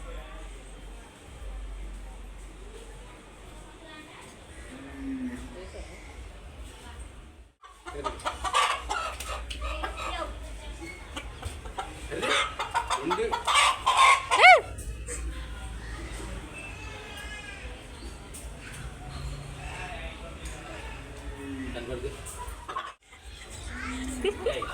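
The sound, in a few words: chickens clucking and flapping as they fly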